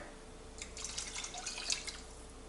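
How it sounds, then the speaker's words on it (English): Water pours steadily into a pot of minestrone soup, a soft continuous splashing and trickling, fairly quiet and heard alone without voices. "And then we're gonna add about 2 more cups of water."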